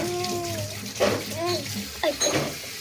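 Running water from a tap while something is washed, with splashing and water bursts under a child's and an adult's chatter close by.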